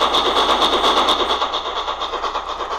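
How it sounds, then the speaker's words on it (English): Tsunami2 sound decoder on a model steam locomotive chuffing under load, a loud rapid rhythmic chuff with hissing that slows slightly as it goes, no talking. "You're going to hear that chuff change."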